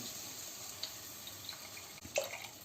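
Water poured into a pan of simmering fish masala while cooking a sardine roast, a faint, steady liquid trickle with a few small splashes near the end.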